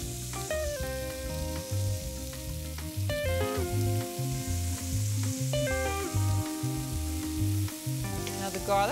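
Chopped shallot hits hot bacon fat in a pan and sizzles steadily, a soft, continuous frying crackle with occasional stirring, heard alone at low volume against a background of light music.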